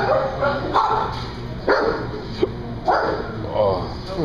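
A purebred Rottweiler barks in several loud, deep woofs spaced about a second apart, close by, with people talking over them.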